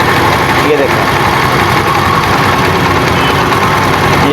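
A Honda CD70 motorcycle engine idles right after its throttle idle screw is adjusted, a loud, close, steady putter that runs unbroken throughout.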